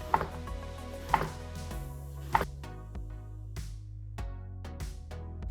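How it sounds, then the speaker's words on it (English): A knife chops eggplant into thin circles on a cutting board, giving a steady series of crisp, close knocks, a few sharper hits at first, then quieter, evenly spaced cuts. "So cut them into thin circles first."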